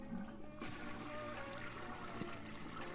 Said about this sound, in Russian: Но унитаз смывается.